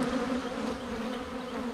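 Honey bees buzzing steadily at a hive that may be preparing to swarm, a dense continuous drone close by with no voices.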